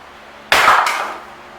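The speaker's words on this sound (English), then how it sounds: "we're just gonna cut off our mystery metal welds" A cut into welds on Jeep CJ7 body metal lands as one sharp, loud metallic burst. Its bright grinding rasp lasts about a third of a second, then a brief ringing tail fades.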